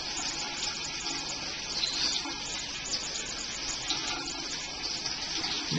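Tap water gushes steadily and loudly into a tub for a dog's bath, a continuous close splashing rush with no pauses and no voices.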